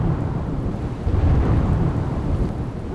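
Heavy, unbroken rain pours down in Gir Gadhda, Gujarat, a loud, dense roar of water with a deep rumbling undertone throughout.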